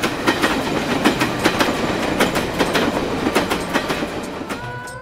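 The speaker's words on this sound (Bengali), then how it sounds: "কখনো সামনে দিয়ে আস্ত একটা ট্রেন সশব্দে চলে যায়।" A whole train rushes past close by, loud and steady, its wheels beating out a rapid clickety-clack rhythm across the rails with a faint squeal near the end; no voices.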